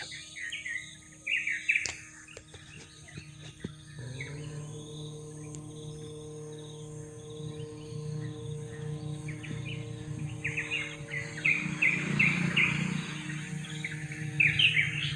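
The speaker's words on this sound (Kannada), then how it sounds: "ಪಕ್ಷಿಗಳ ಚಿಲಿಪಿಲಿ ಆನಂದ" Birds chirp and call in a dense green forest near Yellapur in Uttara Kannada, with steady insect trilling underneath; bursts of bright chirps come and go, growing busier toward the end, faint and fairly distant.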